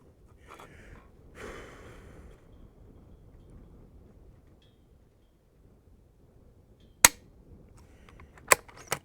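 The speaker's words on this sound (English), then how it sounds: "I think we're going to run with just that one dry fire" A rifle is dry fired, giving a sharp, isolated trigger click near the end, followed by a couple of smaller mechanical clicks, against quiet breathing and faint handling noise.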